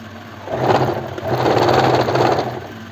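Sewing machine stitching a kurti collar runs in a steady, loud mechanical whir, with brief dips in speed between two sustained bursts of stitching and no talk.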